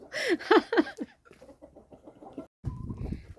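Several chickens cluck and murmur close by in a coop, a burst of louder calls at first, then softer scattered clucks.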